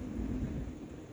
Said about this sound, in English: I don't know if y'all can hear that thunder around here.